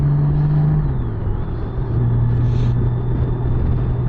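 A Honda Goldwing motorcycle rides in sport mode, giving a loud, continuous engine rumble and road noise with a low droning tone that shifts slightly in pitch partway through.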